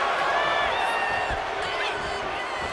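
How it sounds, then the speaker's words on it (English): Arena crowd noise from the WWE 2K25 wrestling video game, a steady roar of cheering that holds at an even level for the whole stretch, with commentary-like voice mixed underneath. "And Bayley's firing up the crowd here."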